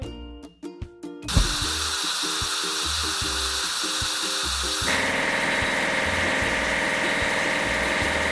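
The engine of a drop side truck in a kids' vehicle game rumbles on steadily after a few short clicks. It holds a loud, continuous buzzing drone, and the tone shifts partway through.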